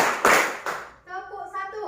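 A class in a classroom clapping game claps twice in unison, two sharp, loud bursts close together, followed by a voice speaking.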